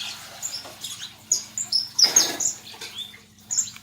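A moulting canary calling in short, high chirps and brief twittering phrases at close range, scattered irregularly over a faint steady background hum.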